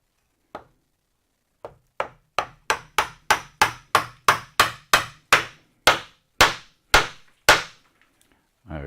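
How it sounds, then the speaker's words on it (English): A wooden mallet strikes wood while a garden bench is being repaired: a slow first knock, then about sixteen close, loud, evenly spaced blows that speed up slightly before a final tap. "Wooden mallet."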